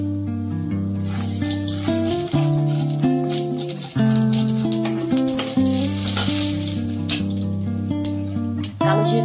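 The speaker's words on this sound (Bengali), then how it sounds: "তেলের মধ্যে আমি ফোড়ন দিয়ে দেবো 1 চামচ কালো জিরে" Black cumin seeds sizzle as a tempering in hot oil for a fish curry, a continuous crackling fry heard under loud background music.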